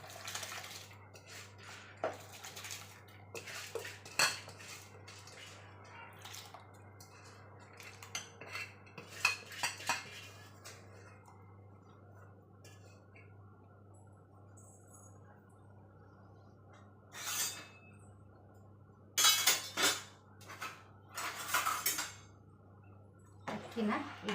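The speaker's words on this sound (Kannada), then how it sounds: "ಈ ಅಕ್ಕಿಯನ್ನು ಇದಕ್ಕೆ ಸುರುತ್ತೀನಿ" Rice is poured into a pot for homemade chicken biryani, with soft rustling and watery splashes, faint clinks of utensils and dishes, and louder pouring bursts toward the end.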